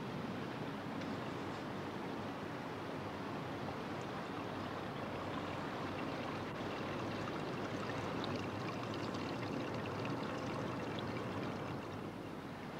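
Steady, continuous rush of flowing water, a broadband babble that stays even throughout with no voices.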